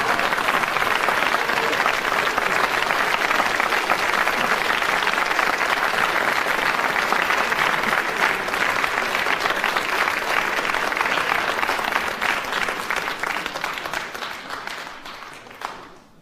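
Radio panel game studio audience applauding: dense, sustained clapping at full strength for most of its length, then gradually fading away near the end, with no talk on top.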